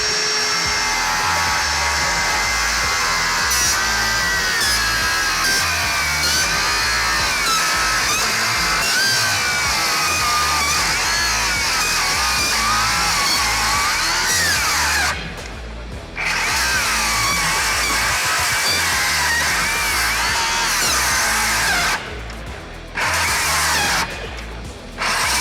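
Framing saw blade cutting through a board with 32 stainless steel nails driven into it, a loud continuous screaming whine with grinding and metallic chatter for most of the clip, broken by a few brief drops near the end.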